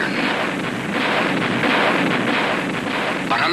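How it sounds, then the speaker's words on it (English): Cartoon cannon fire during an animated Khyber Pass battle ambush, a continuous rumbling barrage of booming blasts with a windy, noisy texture, loud and sustained. "kept them at bay with our cannon"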